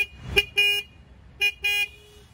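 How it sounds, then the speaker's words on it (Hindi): A 2023 Triumph Speed 400 motorcycle horn beeps three times in short bursts, with two close together after the first, loud and near. "मैं आपको हॉर्न का आवाज़ सुना"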